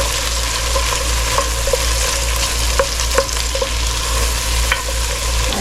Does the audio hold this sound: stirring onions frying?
yes